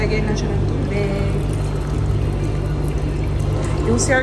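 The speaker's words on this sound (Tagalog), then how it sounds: "So, lalagyan lang siya ng tubig." Water poured into a chargeable portable bidet in a mall restroom in Singapore, a continuous liquid splash and trickle over a steady background hum.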